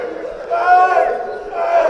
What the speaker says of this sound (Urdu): ایک لمحے کو آپ نے نعرے لگائے، آپ نے صلوات بھیجی